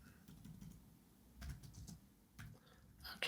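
Faint, sparse keystrokes on a computer keyboard while typing a command into a coding editor, a few scattered clicks with brief pauses and a louder tap at the end.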